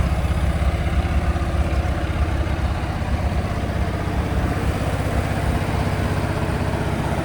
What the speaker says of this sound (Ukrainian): Мотор уже гаплик цьому двигунові